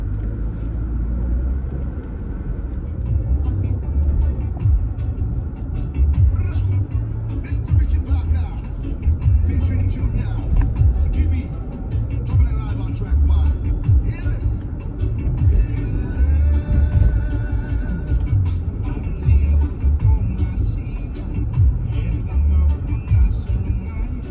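Car driving about a mile through Baltimore to a delivery customer, with a steady low engine and road rumble throughout, heard from inside the vehicle.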